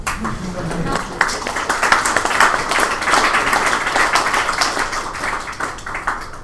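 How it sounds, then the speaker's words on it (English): Audience clapping at a talk on building a social media app, a fairly close, dense burst of hands clapping with a few sharper individual claps, with a brief voice near the start. "You guys can clap now"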